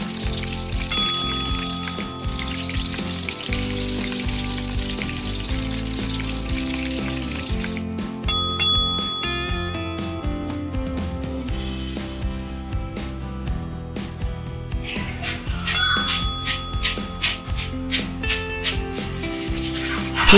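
Crispy fried potatoes shaken and tossed in a metal sieve for iftar, giving a busy dry rustling and clattering with bright scraping bursts that swell and ease in waves, close and alone without talk.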